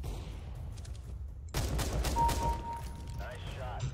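A sudden burst of gunfire rings out in a Counter-Strike GO deathmatch, a sharp loud volley followed by a few quick shots and a faint tone, with game ambience before it.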